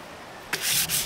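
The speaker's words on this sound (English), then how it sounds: "already sanding it down" Abrasive sanding strokes on wood aboard a narrowboat start abruptly after a quiet moment, a steady broad rasp with a brief dip between two long strokes.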